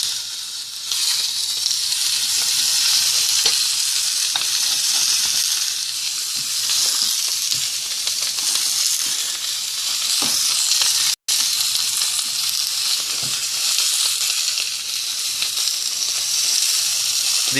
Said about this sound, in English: The searing is just to seal the meat so that the juices and everything stay in